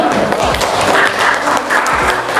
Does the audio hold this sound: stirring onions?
no